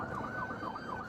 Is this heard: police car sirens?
yes